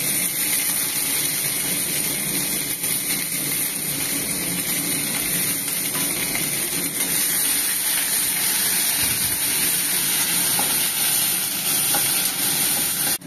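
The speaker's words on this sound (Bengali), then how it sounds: "ক্যাপসিকাম, টমেটো, রসুন এবং কাঁচা লঙ্কা একে একে দিয়ে ভালো করে ভেজে নেব" Capsicum, tomato, garlic and green chilli fry in hot oil for a chilli egg dish, giving a loud, dense, continuous sizzle with faint stirring underneath and no voices.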